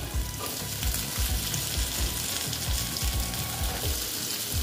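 Potatoes and thinly sliced pumpkin fry in a pan with a loud, steady sizzle and rhythmic scraping stirs close up, with no talk over them.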